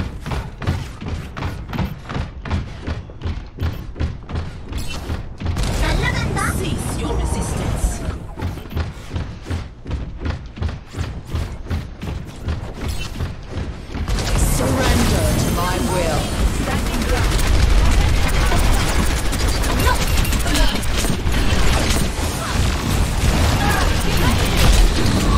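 Rapid bursts of gunfire in the Overwatch shooter game, fired against the character Reaper, crackle loudly in repeated volleys over a busy game mix, with a voice talking throughout.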